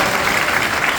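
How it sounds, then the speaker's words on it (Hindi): An audience breaks into loud, continuous clapping, a dense close-up burst of applause with no voices above it. "इनके सम्मान में एक बार जोरदार ताली बजाइए।"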